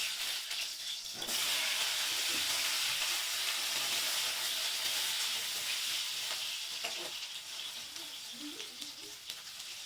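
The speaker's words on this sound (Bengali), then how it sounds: "কচু আর আলুটা ভেজে নেব।" Pieces of taro and potato fry in about a spoonful of oil in a wok, giving a loud, steady sizzle and hiss that carries on throughout, with a few faint stirring knocks near the end.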